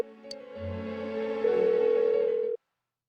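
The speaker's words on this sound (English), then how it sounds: "Why won't she pick up the phone?" A phone ringing unanswered in Persona 4 Golden, a single sustained electronic tone with a low hum joining partway and rising in level before cutting off abruptly into silence.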